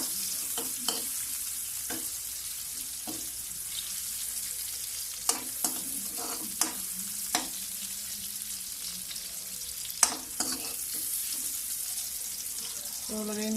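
Garlic and onions sauté in a pan for a sardines dish, with a steady close sizzle broken by repeated sharp stirring clicks and scrapes and brief bits of quiet talk.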